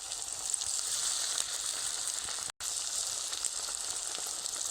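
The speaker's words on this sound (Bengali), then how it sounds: "চলো এরকম অবস্থায় তেলের কড়াইতে ছেড়ে দিই একটা একটা করে ফুলকপি" Cauliflower pakora pieces fry in a hot oil kadai with a loud, steady, close sizzle that cuts out for a brief moment midway before carrying on.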